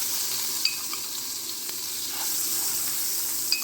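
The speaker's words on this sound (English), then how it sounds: "I'm going to add my melted butter," Melted butter sizzles in a pan on the stove, a steady soft hiss with a few small pops and light stirring sounds, close but moderate in level, with no talking.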